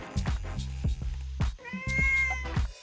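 A cat meows repeatedly in a horror video game, with several distinct mewing calls over a droning background score and no talking.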